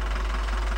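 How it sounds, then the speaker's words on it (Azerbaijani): The diesel engine of a used truck idles with a steady low rumble and a faint knocking texture, close and constant through the short moment. "Mühərrik yəqin ki, dizel, da bunlar? Bəli, dizel."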